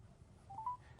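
Telephone keypad dialing tones sound as a call is placed to the Coinone cryptocurrency exchange, two or three short rising beeps in quick succession, faint over a low background hum.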